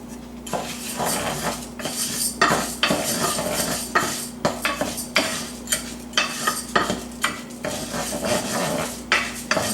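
Rice and scallion whites are stirred in a pot, with a spoon repeatedly scraping and clinking against the metal over a light sizzle and a steady low hum, coming in quick uneven strokes with no speech.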